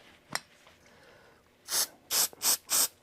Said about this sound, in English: Spritz it.